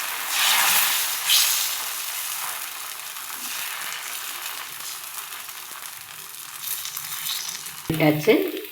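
Millet and carrot dosa batter sizzles on a hot griddle, a broad hiss that swells early and then settles, with a brief knock near the end.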